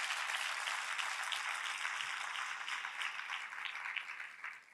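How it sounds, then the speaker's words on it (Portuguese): A church congregation applauds during a Portuguese-language sermon, producing a dense, even wash of clapping that holds steady and then eases off slightly near the end. "Vamos aplaudir Jesus."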